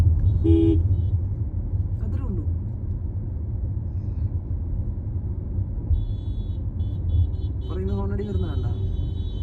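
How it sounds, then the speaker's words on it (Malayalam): A car horn gives two short honks several seconds apart over the steady engine rumble inside a car during a driving lesson, while voices talk at times. "ഹോൺ അടിച്ച് അലർട്ടാക്കിയാൽ മതി അവരെ"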